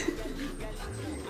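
Soft pigeon cooing in a breeder cage area, a low rolling coo rising near the end, with a faint voice murmuring in the background.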